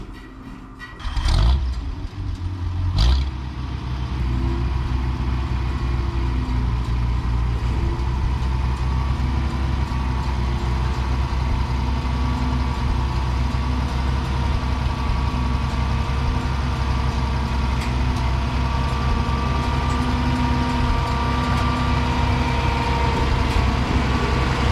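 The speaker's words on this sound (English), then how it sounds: "then we'll get the tractor off here" A tractor idles steadily and close by, with a couple of brief louder bumps near the start as it moves off a hay trailer ramp on a farm, engine droning on without pause.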